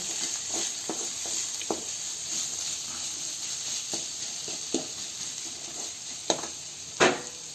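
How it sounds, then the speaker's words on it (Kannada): Cumin powder frying in a pan for chitranna, a soft steady sizzle with scattered stirring scrapes and clicks, ending with a couple of louder knocks. "ಜೀರಾ ಪೌಡ್ರ್ ಹಾಕೋಬೇಕು ಹಾಕೊಂಡು ಏನೈತಿ ಅದನ್ನು ಚೆನ್ನಾಗಿ ಫ್ರೈ ಮಾಡ್ಕೋಬೇಕ್ರಿ"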